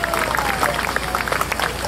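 Applause from an audience at an outdoor municipal band concert in a city park, dense steady clapping with some crowd noise, continuing evenly throughout.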